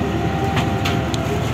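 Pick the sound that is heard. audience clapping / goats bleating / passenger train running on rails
passenger train running on rails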